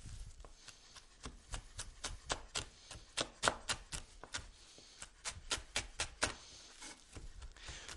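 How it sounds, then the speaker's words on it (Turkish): Quick, rhythmic knife chops on a cutting board, dozens of crisp taps close up in a steady pattern, fresh mint being chopped. "Bol miktarda naneyi doğramaya başladım."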